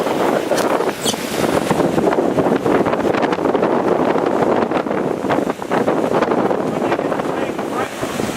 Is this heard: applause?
no